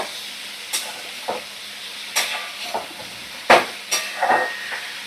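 Chopped tomato, eggplant and potato fry in a pan under a soft steady sizzle, punctuated by about a dozen brief scraping clacks as a spoon stirs them.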